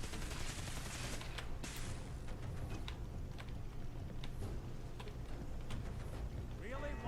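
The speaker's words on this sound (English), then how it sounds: "We're already staring down the barrel of a fucking laser cannon." Rapid volleys of laser cannon fire crackle in a Fallout 4 firefight, sharp bursts stacking over continuous background game noise and music, with a voice talking over the action.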